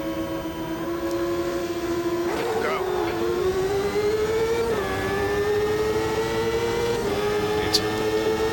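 CART race cars in the Automobilista 2 racing game at Long Beach: a sustained engine whine climbing through gear shifts, with brief dips as the pitch resets, loud and steady while a voice talks over it.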